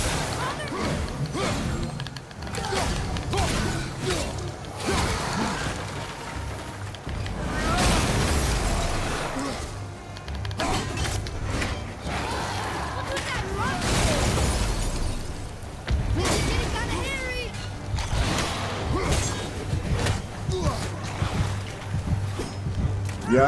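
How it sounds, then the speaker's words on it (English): Enemies self-destruct in the God of War video game, with repeated loud crashing blasts and smashing impacts packed into dense, chaotic combat noise. "they freaking do the self-destruction thing, the self-explosion thing, the kabloofy thing"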